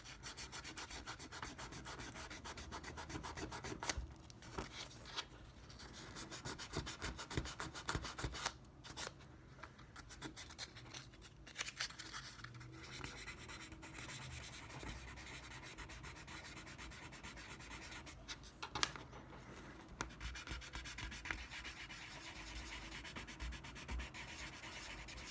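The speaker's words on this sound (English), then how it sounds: "there's going to be a little more sanding to do" Fine abrasive sanding on a plastic model scale model part to smooth away mold lines and nubs makes a continuous close scratchy rubbing with short pauses and shifting strokes.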